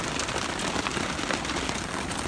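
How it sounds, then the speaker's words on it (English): Steady rain falls on surfaces outdoors, a dense, even patter of drops that stays close and constant with no voices. "rain's picking up a little bit"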